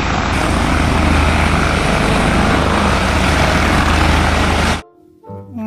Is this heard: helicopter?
yes